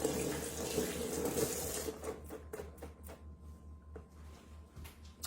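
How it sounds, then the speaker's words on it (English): A faucet runs into a sink as sticky, caramel-coated hands are washed, giving a close rushing splash that stops partway, followed by scattered light clicks and knocks. "Wash my hands, it's sticky."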